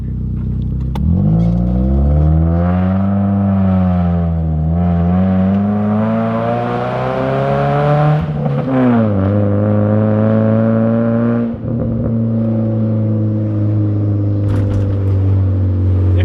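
Mazda Miata fitted with a Manzo catback exhaust revving loudly and steadily, the engine note rising and falling through several long throttle sweeps with a sharp blip near the end, no talking.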